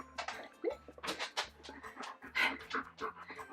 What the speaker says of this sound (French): il y a mon chien qui arrive en même temps